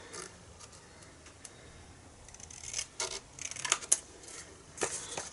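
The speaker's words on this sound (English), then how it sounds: "I'm just going to find a pair of scissors that's hiding from me, and all I'm going to do is cut off" Scissors snip through the cardstock overhang of a handmade Stampin' Up! thank-you card, giving a few quiet, crisp cuts and clicks that come close together toward the end.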